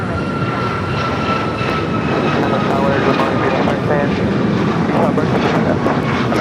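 Boeing 737 MAX 8 jet engine noise at LAX airport, a steady, loud roar that holds at one level throughout, with a faint steady whine on top and radio voices under it.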